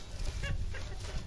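Chickens clucking while foraging on a rural farm near a river, a soft, short cluck against low rumbling background noise.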